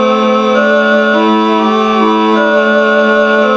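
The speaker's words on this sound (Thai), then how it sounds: "น่าจะเป็นซอเนาะเสียง" Steady synthesized Thai so fiddle voice on an electronic keyboard sustains a held melody with slight vibrato wavering, loud and continuous, played alone without talk.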